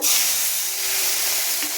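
Poppy seed and cashew paste sizzles hard in a pan as a splash of water is added, producing a loud, steady frying hiss that runs without pause.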